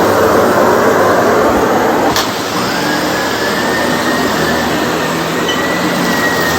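A Sebo D4 Premium ePower vacuum cleaner runs on a rug with a loud, continuous roaring whoosh and a brief thump as it is adjusted mid-run, with no talking.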